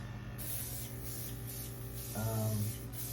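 Several short bursts of hissing spray from an aerosol can, close up, with a low hum underneath.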